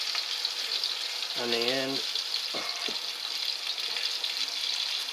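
A leg of spring lamb browns in hot frying oil in a pan, giving a steady, close sizzle that runs throughout, with a short stretch of talk partway through.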